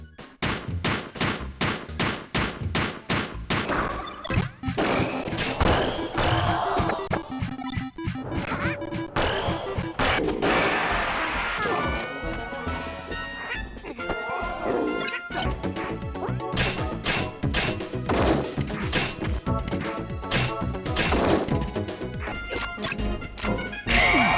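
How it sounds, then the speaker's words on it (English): A rapid series of sharp, punchy Super Smash Bros. 64 sound effects, including the home run bat hit: crashes, thwacks and smashes fire one after another, loud and dense throughout. "the dopamine rush you get from listening to that home run bat sound effect"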